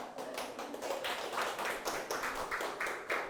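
Audience at a forum gives a sustained round of applause, many hands clapping together in a dense, steady patter that fills the room without pause.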